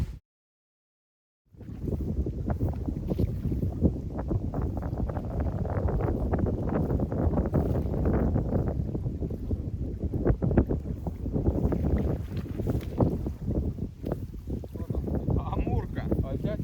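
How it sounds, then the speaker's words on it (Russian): Strong wind buffets the microphone nonstop at an evening carp fishing spot, a loud, broadband roar that never lets up after a brief silent start. "Блин, ветер все никак не утихнет."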